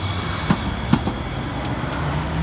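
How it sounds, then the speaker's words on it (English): A VTA light rail train bound for Santa Teresa rolls past with a steady rumbling wash, a few wheel clacks over rail joints and faint high squeals, mid-distance and alone without talk. "There she goes to Santa Teresa train."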